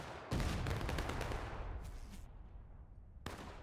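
Musket volleys crack out in the Civil War video game War of Rights, a loud burst of overlapping shots followed by a scattered rolling crackle that fades, then another sharp report near the end.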